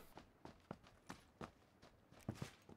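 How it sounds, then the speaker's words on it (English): Footsteps in the battle royale shooter PUBG, a series of quiet, evenly paced thuds on hard ground, faint and somewhat distant, with no speech over them. "Footsteps."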